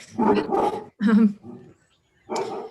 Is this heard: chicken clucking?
no